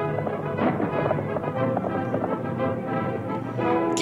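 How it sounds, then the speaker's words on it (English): Horse hooves clip-clop steadily in an old Zorro film, a busy, continuous patter of galloping hoofbeats under faint background voices. "Otherwise, we'd just have Zorro riding around on his horse."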